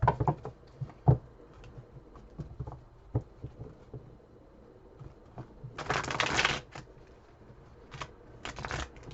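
Tarot cards being shuffled close up: scattered taps and clicks, then two fast riffling bursts of flicking cards.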